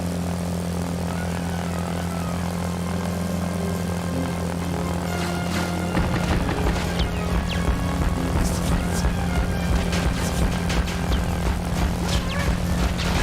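Fighter planes attacking a ship in the video game Secret Weapons Over Normandy: a steady engine drone, then louder propeller roar with rattling gunfire and impacts, continuous and close.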